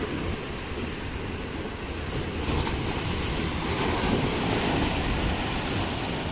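Sea waves roar steadily onto a beach, a continuous broadband rush of surf with wind noise on the microphone, swelling slightly louder midway and holding that level to the end, with no voices.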